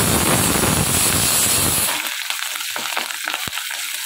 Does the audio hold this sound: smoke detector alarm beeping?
no